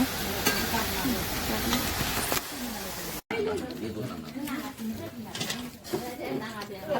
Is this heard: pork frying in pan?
yes